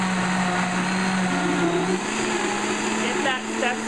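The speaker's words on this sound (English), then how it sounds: "Let me get blending and I'll show you what that looks like." A kitchen blender whirring steadily as it purees carrot soup, loud and close, its motor pitch stepping up partway through as the speed is raised.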